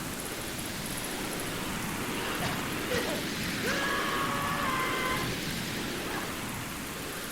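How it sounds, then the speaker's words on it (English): Steady rain in Ocarina of Time Master Quest pours down as a constant, even hiss with no pauses, joined midway by a few faint tonal game sounds. "At least the rain put the town's fire out"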